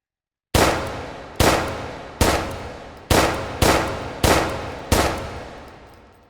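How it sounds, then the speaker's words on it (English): Seven sharp, evenly spaced single shots from an Mk18Mod1 rifle in the VR shooting game H3VR, each a loud crack with a short decaying tail, fired alone after a brief silence. "let's clear out our 62 shots on our target"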